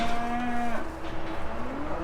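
Cattle in a farm yard during calf weaning moo loudly and close, one long bellow followed by a lower, drawn-out second call over steady background noise.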